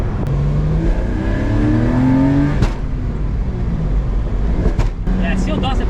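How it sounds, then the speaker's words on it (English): Engine note of a $2700 Porsche under hard acceleration with a worn motor mount, a rising, strained drone and rumble that sweeps upward steadily, loud and close throughout, with a brief knock midway and a voice speaking over it. "I accelerate really hard and you hear that noise"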